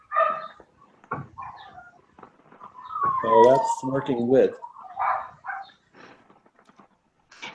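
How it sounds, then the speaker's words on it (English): A dog barks and whimpers in a series of yelping, whining calls mid-clip, fairly near, with a person speaking briefly before and after. "That was definitely a dog."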